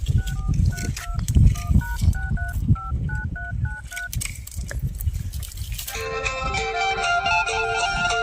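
A rapid run of touch-tone beeps as a phone number is keyed in, close and clear, followed by a steady electronic ringing tone.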